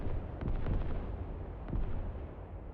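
Arclight bombing strike in the video game Mike Force, S.O.G. Prairie Fire: a dense, continuous rumble of distant heavy explosions with repeated bursts rolling through, no talk.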